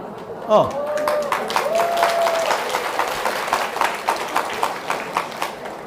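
Audience clapping bursts out during a Buddhist lecture, starting after a brief sound and settling into sharp, rhythmic claps that gradually thin and slow toward the end.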